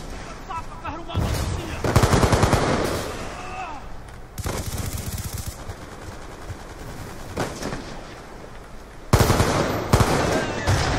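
Rapid automatic gunfire and scattered single shots in Call of Duty Black Ops II multiplayer, coming in loud bursts separated by short lulls, with faint voices and game effects underneath.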